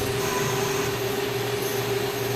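Mill-turn lathe plunge-cutting a 1-inch diameter metal bar, a steady machine hum with a constant whining tone, moderately quiet and uninterrupted, no talking.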